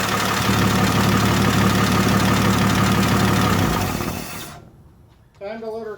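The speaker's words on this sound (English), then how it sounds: "Now you guys see that the engine's starting to heat up." Car engine idling as it heats up during timing adjustment, a loud steady mechanical clatter that cuts off after about four seconds, followed by a brief voice.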